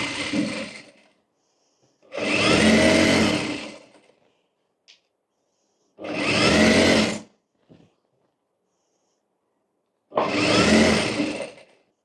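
A sewing machine stitching a small girl's kurti, three loud bursts of rapid motor whir, each about a second or more long, separated by silent pauses and faint clicks.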